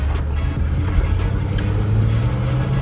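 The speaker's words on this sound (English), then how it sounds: "I mean, the motor sounds good." 1986 Ford F-150 Bullnose truck engine idling close by, a steady low rumbling drone with a slight unevenness and no voices over it.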